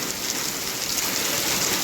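Heavy rain pours down in Wadwani, Beed, in a dense, steady hiss, loud and close, with no voices.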